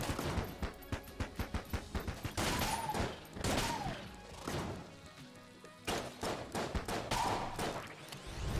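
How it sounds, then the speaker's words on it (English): Shades' revolver fires in Enter the Gungeon: rapid bursts of sharp game gunshots in quick rhythmic volleys, interspersed with heavier impact crashes and bright ricochet-like tones, loud and continuous. "This is a very cool gun we got here. Shades' revolver."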